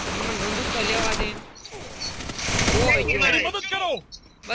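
Bursts of gunfire from a battle royale video game rattle through the first second and again later, mixed with other game effects while a voice talks over them.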